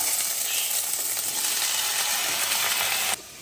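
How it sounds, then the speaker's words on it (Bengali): Onion, capsicum and tomato fry lightly in mustard oil, making a dense, even sizzle close by that cuts off abruptly just before the end, with no voices. "এই যে 2 চামচ যে তেলটা দিয়েছি সেটা হালকা আমি একটু ভেজে নেব"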